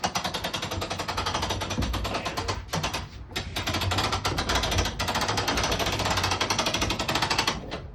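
A hand-cranked pulley winch lifts the hard top off a Jeep Wrangler Unlimited JL with a continuous rapid ratcheting clatter, close and busy, with one brief pause partway through.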